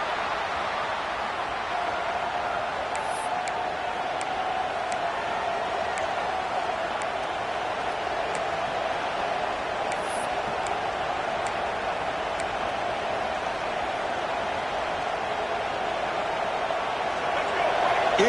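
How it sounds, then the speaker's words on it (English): Steady, dense roar of a large college football stadium crowd at a Georgia at Clemson game, continuous and broad, with faint sharp ticks scattered on top and a slight swell near the end. "this crowd is fired up. Listen to this noise here."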